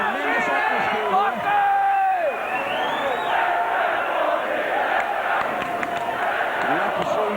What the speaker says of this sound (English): I think it's a great crowd and they're really participating in the atmosphere